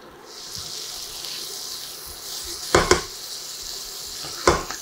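Onions dropped into melted butter in a pan, sizzling with a steady close hiss that continues throughout, broken by a couple of sharp clatters from a utensil against the pan.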